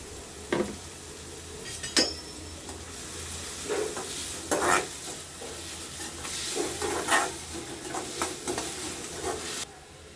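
Finely chopped onion and garlic fry in hot oil in a pan, a soft steady sizzle broken by repeated clinks and scrapes of a stirring spoon against the pan, close by, with no talking.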